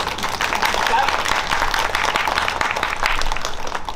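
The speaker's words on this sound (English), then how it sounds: "So a big clap for your parents before we get started." School assembly audience clapping for parents, a continuous busy patter of many hands heard under and alongside speech throughout.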